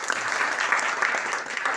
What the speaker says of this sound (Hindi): एक तालियां बनती है